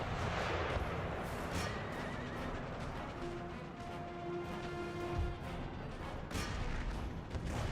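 Horses whinny and neigh amid a dense, noisy battle din in the game Empire: Total War, with hooves clattering and occasional distant booms.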